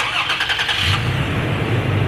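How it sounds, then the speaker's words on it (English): A 2020 Toyota Tacoma TRD Off Road pickup starts by remote start, the starter cranking briefly before the engine catches and settles into a steady, close idle with no voices. "I can let off and the truck will now start"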